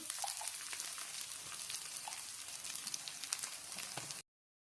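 Ginger and cumin paste frying in a pan for a Bengali raw banana chechki, a steady dense sizzle and crackle with a few soft pops, close and continuous, with no talk, then stopping abruptly.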